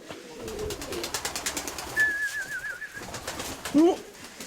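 Young February pigeons at a dovecote coo and call in short bursts, with one clear rising call near the end over a soft background of wing and perch noise, close to the listener.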